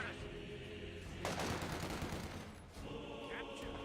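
Bursts of machine gun fire from an MG42 rattle out in a Company of Heroes 2 battle, with a dense volley of shots in the middle and quieter battlefield noise on either side.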